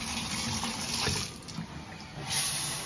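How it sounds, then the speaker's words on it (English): Water from a cold shower runs in a continuous rushing hiss, close and steady, with a brief swell near the end before it cuts off. "Now I gotta jump in the shower."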